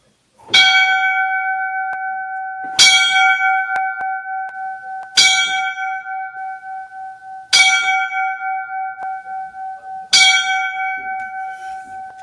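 A large bell tolls five times at a slow, steady pace, each strike ringing out loudly and humming on into the next.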